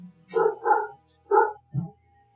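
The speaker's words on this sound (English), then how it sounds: "I heard dogs more than you." Dog barks in short bursts: three quick yips close together, then a lower, rougher woof after a brief pause, fairly near and clear against a quiet background.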